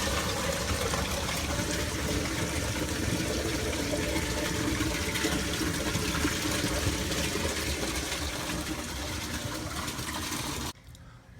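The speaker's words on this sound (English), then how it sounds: "Wow, that drain is noisy." Water pours steadily and loudly through a PVC drain on a 350-gallon reef tank, a continuous rushing gurgle heard close up that cuts off abruptly near the end.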